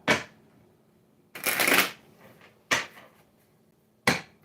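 Tarot cards shuffled by hand in quick bursts: a short riffle, a longer rustling shuffle, then two brief snaps, separated by quiet gaps, close and clear with no talking.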